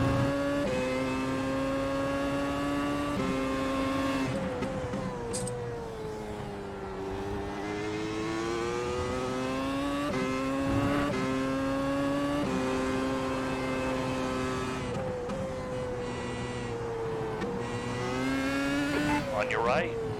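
A race car engine in the iRacing sim screams steadily and close, its pitch climbing through each gear with brief dips at shifts, with a driver talking over it.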